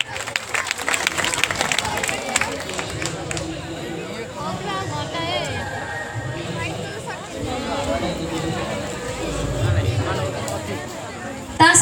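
A Diwali festival crowd in Mahanga claps in loud, sustained applause lasting several seconds, with chatter mixed in.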